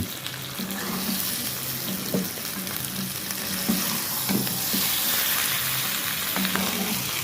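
Fish heads sizzle and fry steadily in a hot pan for muri ghonto, a loud, continuous crackle with occasional stirring scrapes and no voices.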